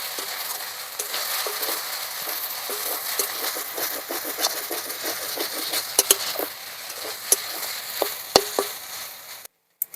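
Mashed banana flower and boiled potato stirred into spiced fish frying in a pan, with steady sizzling and scraping stir strokes throughout, a few sharper utensil clicks near the end before it cuts off.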